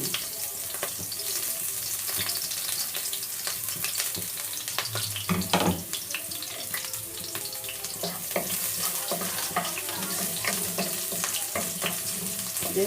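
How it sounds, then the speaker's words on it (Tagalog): Garlic frying in hot oil in a home kitchen while making chop suey, a steady loud sizzle with stirring clatter running throughout, close and without talk. "Ayan, mainit na yun. Lalagay na natin yung ating bawang."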